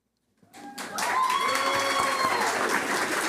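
Audience applause at a Board of Education work session, rising after a brief silence into steady, dense clapping that fills the room and holds to the end, with a few faint voices mixed in.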